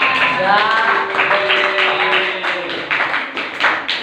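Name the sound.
class clapping hands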